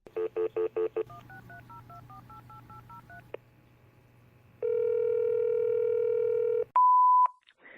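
Touch-tone phone dialing: a quick run of DTMF beeps, then a rapid sequence of alternating dial tones, a pause, a long steady ring-like tone and a final short sharp beep, all clear and close.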